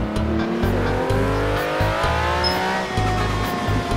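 Mercedes-Benz AMG engine in Forza Horizon 4, revving loudly and continuously with pulsing low throttle blips and rising gear sweeps, alone on a road setting.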